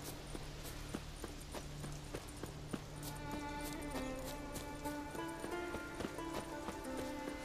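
Horse hooves clop steadily while riding in The Witcher 3 video game, a rhythmic run of hoofbeats over in-game ambience and music, with no speech in the clip.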